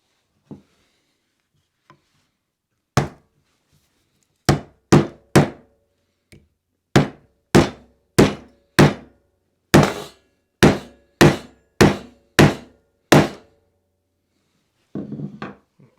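Sharp hammer taps strike in a steady series, about a dozen crisp knocks as frets are hammered into a guitar fretboard, wood and metal, close and loud with short pauses between.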